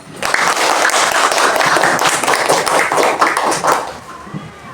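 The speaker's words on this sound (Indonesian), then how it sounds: "Berikan apresiasi tepuk tangan." A classroom of students applauds, dense, loud clapping from many hands close by, sustained for several seconds before tapering off at the end.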